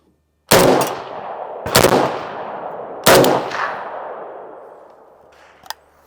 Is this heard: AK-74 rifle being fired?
yes